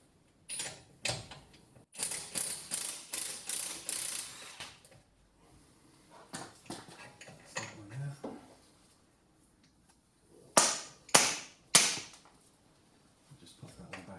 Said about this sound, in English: I've got the impact gun, so I'm going to crawl underneath and put them on and whiz them off.